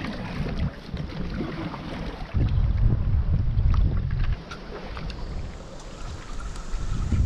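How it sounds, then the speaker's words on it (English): Strong wind buffets the microphone while out on a small boat during a solo fishing and foraging trip, roaring in loud gusts with a heavier surge in the middle and water sloshing beneath, no talking. "It's getting very, very windy now, so we might have to call it."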